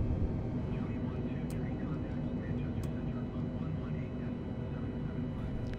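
Airbus A320neo climbing out of Leeds Bradford in Microsoft Flight Simulator on Xbox Series X, a steady loud engine roar with broadband rumble throughout, someone talking over it.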